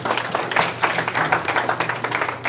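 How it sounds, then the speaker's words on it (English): A crowd at a scholarship luncheon applauding, a dense wash of clapping hands that keeps going steadily for a couple of seconds. "let's give another round of applause for Ms. Laura and the Bartlesville Community"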